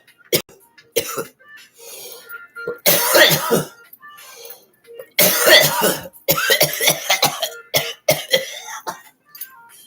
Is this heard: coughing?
yes